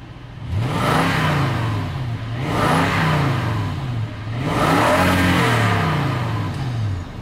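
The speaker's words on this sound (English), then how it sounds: "Let me rev the engine a couple times here for you." A 2004 Toyota Sequoia's engine is revved three times in a row, each rev rising in pitch then falling back to idle, loud and close with no talk.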